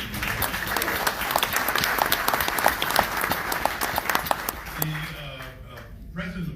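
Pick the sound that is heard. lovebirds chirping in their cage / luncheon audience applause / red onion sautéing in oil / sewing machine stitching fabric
luncheon audience applause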